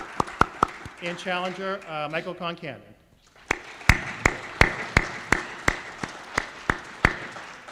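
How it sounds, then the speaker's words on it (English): At a mayoral candidate forum, a voice on a PA announces a name. A thin, slow run of scattered claps from a small audience follows, evenly spaced, sharp and fairly near. "You can clap for that."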